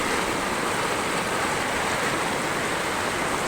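Strong typhoon floodwater current rushing past in a steady, loud, unbroken roar with no pauses.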